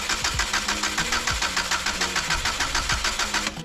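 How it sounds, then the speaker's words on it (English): A 1996 Subaru GC8 engine cranks under the starter with a fast, even rhythmic chug of loud, close-up pulses that carries on for several seconds before cutting off abruptly. "I'm going to start the car"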